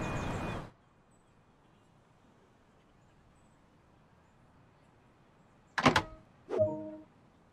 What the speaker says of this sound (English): Set the doors to locked.